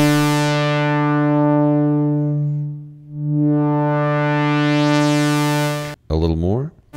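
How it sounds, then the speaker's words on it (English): Oberheim Two Voice Pro analog synthesizer holding a sustained harmonic-rich tone as resonant filter sweeps down and back up, followed by a brief burst of rapid resonant chirps near the end; loud and close, no talking. "Let's listen to it with a little bit of resonance."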